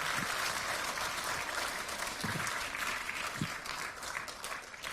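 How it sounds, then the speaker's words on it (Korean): Steady applause from a large crowd at a Democratic Party candidates' rally for the 22nd general election, heard at a distance and moderately faint, an even wash of clapping with a few low thumps. "다시 한번 큰 박수 부탁드리겠습니다"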